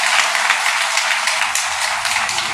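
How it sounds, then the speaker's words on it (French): Dense, loud clapping from an audience at a women's day celebration in Glazoué, a continuous wash of hands with no voices. "Applaudissez pour vous-même."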